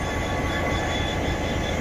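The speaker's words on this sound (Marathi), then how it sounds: "ही बघताय आपण बीडची रेल्वे" A train at Beed railway station rumbles steadily and loudly close by, a continuous broadband roar of wagons and wheels on rails with no pauses or voices over it.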